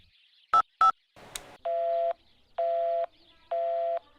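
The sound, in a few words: telephone dialing tones in a Hindi dubbed movie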